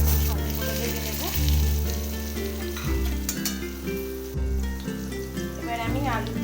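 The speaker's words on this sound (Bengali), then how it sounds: "আলুগুলো দিয়ে দেবো, কেটে রাখা আলুগুলো ভেজে দেবো।" Cut potatoes frying in hot oil in a pan right after shrimp were fried, giving a steady close sizzle with occasional stirring scrapes over a faint tonal background.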